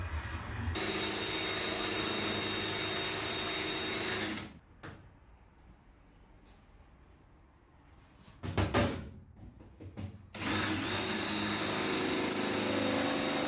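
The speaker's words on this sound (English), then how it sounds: "since I'm going to be drilling a hole corresponding to each one of these bolts, I treated myself to a cobalt drill bit" A power drill with a cobalt bit whines steadily for several seconds, stops, then a short burst and a final long steady drilling run follow, boring bolt holes.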